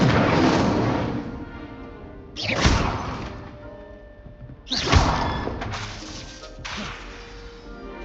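The Incendio fire spell is cast in Hogwarts Legacy, each burst a sudden whooshing blast that flares loudly and then trails off; three or four casts come in close succession with no talk.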